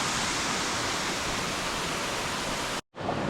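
A small mini waterfall rushes steadily nearby as a dense, even hiss of falling water, then cuts out abruptly for a brief moment before resuming.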